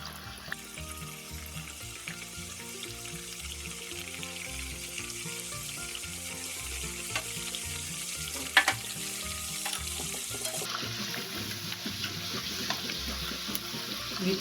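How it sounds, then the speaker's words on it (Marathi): Wheat flour and jaggery kapnya frying in a wok of oil over a medium gas flame, giving a steady, continuous sizzle with soft bubbling and occasional stirring clatter, alone without any talk. "आता अशा प्रकारे आपण तळून घेऊ छान खुसखुशीत अशा."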